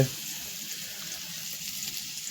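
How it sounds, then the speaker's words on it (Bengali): Potatoes frying in a home kitchen during Christmas Eve cooking give a steady, moderately quiet hiss and crackle that holds evenly for the whole stretch, with no voices over it. "আলু ভাজা হচ্ছে"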